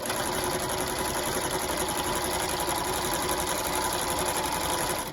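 A worn, janky sewing machine stitches a rolled hem, running at a steady fast whir with a rapid mechanical chatter, close and continuous with no talking.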